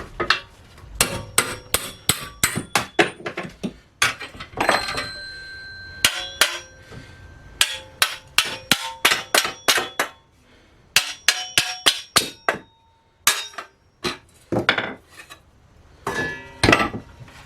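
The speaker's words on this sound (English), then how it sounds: "Handy dandy punch for knocking out pieces of metal." A hammer strikes a metal punch to knock pieces out of a saw blade during a workshop build, in bursts of sharp, ringing metallic blows repeated rapidly in clusters with short pauses between.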